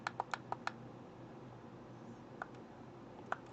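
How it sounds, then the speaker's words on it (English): Thunky buttons on an Abxylute E1 dual-boot handheld console are pressed in a quick run of five close clicks, followed by a pause and then a few scattered single presses. "The one thing about this key, these keys is very thunky."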